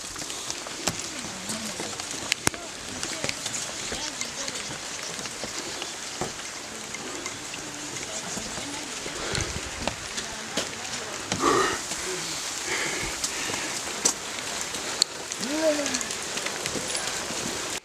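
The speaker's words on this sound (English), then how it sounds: "it's rainy. I hope it's not rainy like this every day." Rain patters steadily on surfaces in rural Uganda, a faint, continuous hiss with scattered sharper drops, while a person talks over it at intervals.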